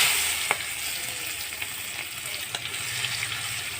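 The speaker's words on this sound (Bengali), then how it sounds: "ফোড়ন দিব তেজপাতা আর কুচানো পেঁয়াজ" Bay leaf and chopped onion tempering in hot oil, a close continuous sizzle with a sharp crackle at the start and a few small pops as it settles.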